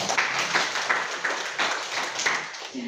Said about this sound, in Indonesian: Oke, tepuk tangan dulu untuk Musa.